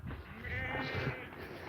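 Sheep bleat inside a barn, a wavering call over a steady background hum, close and fairly loud for under two seconds.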